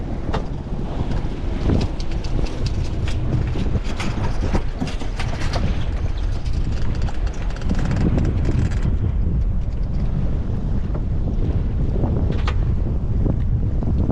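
Strong wind of about 18 to 20 mph roars across the microphone as a sailboat tacks, a loud continuous buffeting rush mixed with water noise and occasional thumps, with no voices.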